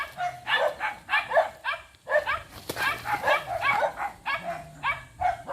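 A dog barks repeatedly in short, rhythmic bursts among mountain homes in a rural area, moderately distant, over steady outdoor background noise.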